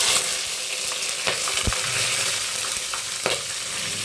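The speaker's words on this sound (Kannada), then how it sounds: "ಎಣ್ಣೆ ಕಾದಿದೆ. ಈಗ ಜಾಕಾಯಿ ಜಾಪತ್ರೆ ಪುಡಿ ಮಾಡಿರೋದು ಹಾಕ್ತೀನಿ." Ground spices, a bay leaf, green chilli and onion frying in hot oil for a paneer biryani, a loud, dense sizzle up close with a few clunks of stirring, no voices.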